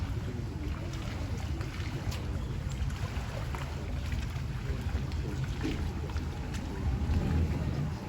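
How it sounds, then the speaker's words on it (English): A boat entering a hand-cranked lock on the Kelowna waterfront in British Columbia's Okanagan Valley, with a steady low engine rumble and lapping water that holds close and even throughout. "And here comes a boat coming in."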